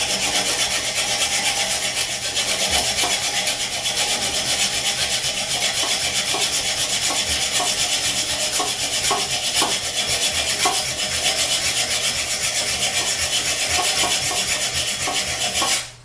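A hand saw cuts through a metal toilet bolt while a wrench holds the nut still. A loud, steady back-and-forth rasp runs without a break from start to finish, with no talking.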